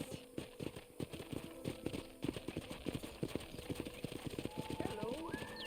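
Steady clip-clop of horse hooves trotting at a brisk, even rhythm, close by, with a short whinny near the end, in the video game Red Dead Redemption.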